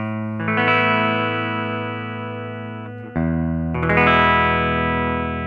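Sustained clean electric guitar chords ring out with a bright tone processed through a Strymon DIG delay, one chord held and then a change near the middle, loud and alone.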